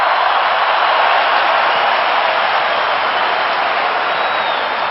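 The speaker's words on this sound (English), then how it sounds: "Listen to the crowd." A large crowd at a cricket match, South Africa chasing a record total, roars and cheers in a dense, sustained wash of noise, loud and unbroken throughout.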